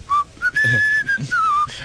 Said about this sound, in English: I was just whistling.